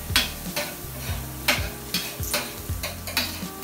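Onion and garlic sauté in a pan with a steady, soft sizzle while a utensil scrapes and stirs in regular strokes about every half second. The garlic is starting to brown and the onion is turning translucent.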